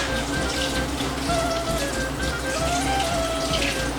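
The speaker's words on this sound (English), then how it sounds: "I'm gonna give this a rinse." Steady running water splashes over roasted red peppers being rinsed for homemade Macedonian ajvar, a continuous close hiss and patter with no pauses.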